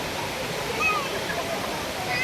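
A waterfall pours down steadily at a scenic spot visited by a family, filling the scene with a loud, continuous rushing roar of falling water.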